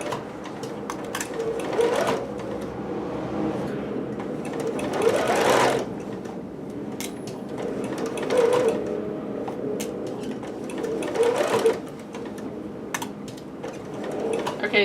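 Sewing machine stitching fabric for a Pikachu dress, a continuous close mechanical whirring chatter that rises and eases in short runs, with brief pauses between bursts of stitching.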